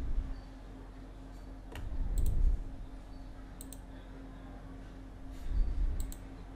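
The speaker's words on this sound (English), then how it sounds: "Just double left click it to extract this zip file." A computer mouse double left click on a Windows PC, heard as a few sharp, faint clicks in small pairs spread across a quiet room background.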